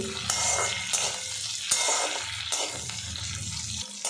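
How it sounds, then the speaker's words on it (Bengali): Potatoes stirred and fried in a pan with oil while cooking a kalmi greens dish: a steady broadband sizzle with scraping strokes and irregular clattering bursts, close and alone without talk. "আলুটা নাড়াচাড়া করে ভাজা ভাজা করে নেব"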